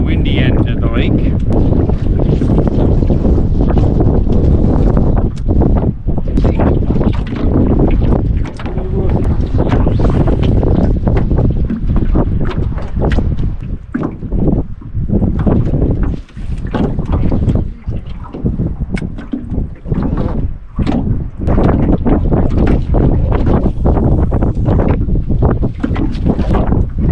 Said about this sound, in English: on the windy end of the lake.